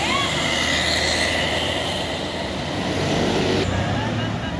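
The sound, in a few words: small bus passing on toll road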